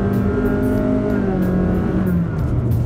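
A 2023 Honda BR-V seven-seater family car accelerates at full throttle from 30 km/h, its engine climbing in a loud, rising rev with strong rumbling drone, heard from close inside the cabin.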